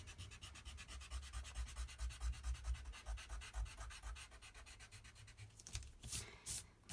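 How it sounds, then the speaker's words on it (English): An eraser rubs back and forth across paper in a third-grade pop art drawing lesson, a steady close scrubbing texture of quick repeated strokes with a brief louder rustle near the end. "I take my eraser and I erase the middle"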